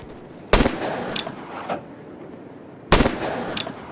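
Two loud, sharp gunshots from a Wild West video game, the second about two and a half seconds after the first, each followed by brief ringing echoes.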